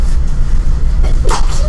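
A single sharp sneeze from someone in a lecture class, bursting out briefly over the steady hum of the room.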